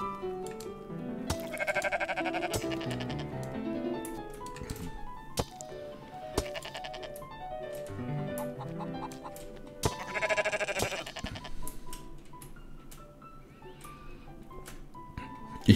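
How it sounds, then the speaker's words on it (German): Sheep in the video game Rising World bleat repeatedly, with several drawn-out, wavering calls fairly close by, over faint game ambience and light clicking. "Ich renne den Schafen hinterher."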